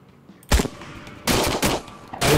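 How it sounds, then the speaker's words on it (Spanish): Gunfire in the video game Trans-Siberian Railway Simulator: loud, close bursts of rapid shots, one short burst followed by a longer cluster and another burst at the end, with quiet gaps between. "cuando te meten esos tiros no te dejan correr"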